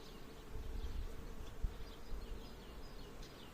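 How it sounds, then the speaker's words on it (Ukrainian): Faint, busy buzzing of honeybees, young bees leaving the hive of a swarm colony, many insects droning together at close range with soft scattered thumps. "Я ще бачу, що бджола виходить потрохи."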